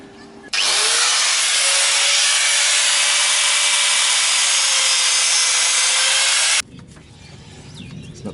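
A power tool cuts a turbo oil line to length on a Toyota Hilux drift build, one loud continuous high-pitched whine for about six seconds, starting and stopping abruptly, with a quieter workshop before and after.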